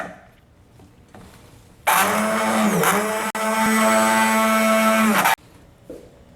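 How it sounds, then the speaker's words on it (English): An immersion blender pureeing a chicken liver pate mixture, a loud steady motor whine that starts abruptly, runs about three and a half seconds with a brief dip, then cuts off sharply. "Now with an immersion blender, you are going to blend this up"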